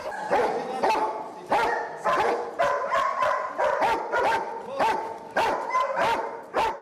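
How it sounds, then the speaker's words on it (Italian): A Dutch shepherd police dog barks on and on in a farewell salute from the canine unit, sharp loud barks coming in a steady, repeated rhythm close by with no talk over them. "il saluto delle unità cinofile con l'abbaiare interminabile di Ray, il pastore olandese"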